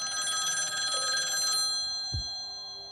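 An old-style telephone bell rings close and steady as a sound effect, then stops, leaving a low thump and a fading hum with no one talking.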